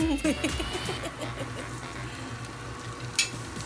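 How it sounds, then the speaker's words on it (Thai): Macaroni is stir-fried with chili paste in a pan, making a steady frying sizzle with a few scrapes and clinks of the spatula. A faint voice is heard near the start. "เราก็ผัดผัดผัดผัดให้ผสมคลุกเคล้ากันให้ ทั่วๆเสร็จแล้วนะคะ มักโรนี ผัดน้ำพริก ต้มยำ"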